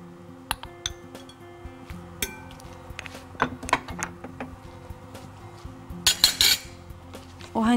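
Butter is beaten in a bowl for cupcake batter, with irregular metallic clinks and taps of a utensil against the bowl that grow quicker and louder toward the end.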